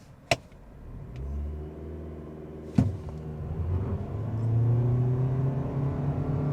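A 2025 Toyota Prius Nightshade AWD hybrid launches hard from a brake-torque start, a sharp clunk giving way to a rising engine and motor drone that builds steadily louder and holds, with another brief thump partway through, close and alone.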